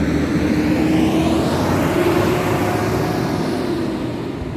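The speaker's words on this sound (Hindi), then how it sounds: "क्योंकि यहाँ से बसेस ज़ियारत के लिए आती हैं तो उस वजह से थोड़ी सी डिस्टर्ब हो रही होगी।" Buses pass by at the pilgrimage site of Hazrat Ismail's place of sacrifice in Makkah, giving a loud, steady broadband engine roar and whoosh that slowly fades as the vehicle moves away.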